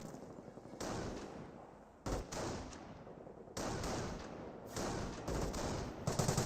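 Rapid bursts of gunfire from a Bren Carrier squad in Company of Heroes, dense overlapping volleys and sharp cracks repeating throughout, loud and busy with brief gaps between bursts.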